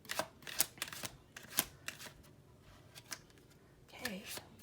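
Tarot cards are shuffled and drawn, giving sharp, scattered snaps and flicks at an uneven pace, faint and close, with a voice speaking softly at times.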